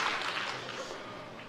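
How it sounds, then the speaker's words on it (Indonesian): A church congregation applauding during a sermon: a short burst of steady, washy clapping from a large room of people that eases slightly as it goes. "Tepuk tangan dong di sini, saudara."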